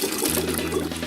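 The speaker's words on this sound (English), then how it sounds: "Add 10 quarts of 145 degree water." A steady stream of 145-degree water pours into a mash tun for brewing ale, splashing continuously, loud and close, with a low hum underneath throughout.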